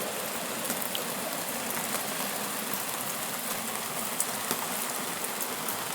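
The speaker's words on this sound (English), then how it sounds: "Some rain this morning. I love to hear it hitting that awning." Morning rain patters steadily on an RV awning at a creek-side campground, a dense, even hiss with a few sharper drops. A heavily flowing creek blends into the wash, and no one speaks.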